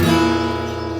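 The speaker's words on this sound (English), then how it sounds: "If you're not in tune, you sound like this." A single sustained guitar strum rings out with sour, clashing strings, decaying slowly over about a second with no talking.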